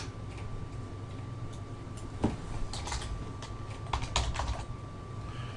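Someone types on a computer keyboard, close and fairly quiet, scattered key clicks with a couple of sharper taps, no voices over it.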